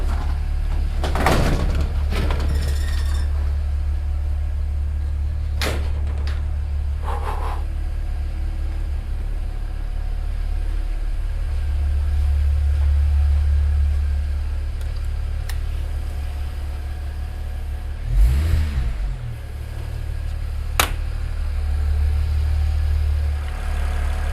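A BMW 335i with an N54 engine and hybrid turbo idles steadily at first start in a garage, with a low continuous hum, a few sharp knocks and a brief louder swell near the end, no talking.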